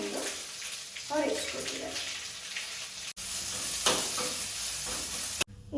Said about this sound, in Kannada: ಈಗ ನಾನು ಒಗ್ಗರಣೆ ಹಾಕೋದು